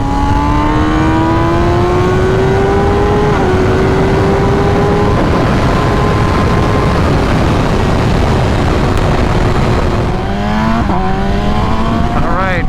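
A 2021 MV Agusta Rush motorcycle engine rides fast through turns, loud and close, rising in pitch, easing off, then revving sharply again as it accelerates out of the bends.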